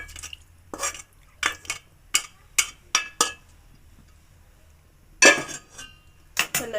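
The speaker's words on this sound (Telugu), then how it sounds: "ఇప్పుడు ఇందులో వేసి కలుపుకుంటాను." A spoon clinks and scrapes against a bowl while Indian gooseberry (amla) chutney is mixed, with close, crisp strokes coming in short irregular bursts separated by quiet pauses.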